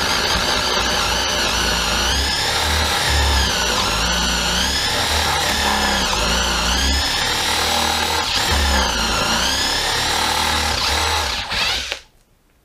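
A Makita DTP141Z cordless impact driver whines loudly and steadily for about twelve seconds, its motor pitch wavering as it drills a 10mm hole, then cuts off abruptly.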